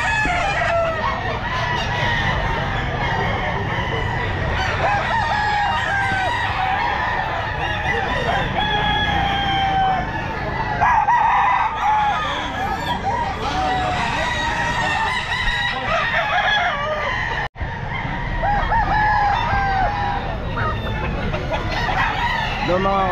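Roosters crow repeatedly at a busy Grotto pet market in Pangasinan, their loud, overlapping calls layered with clucking over steady crowd noise and occasional voices.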